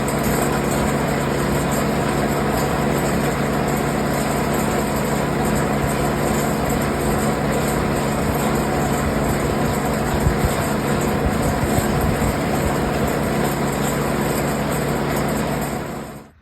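A snow blower's small gas engine runs steadily after being refuelled, a loud, constant close-up roar that holds even for about sixteen seconds before cutting off at the end, with no voices over it.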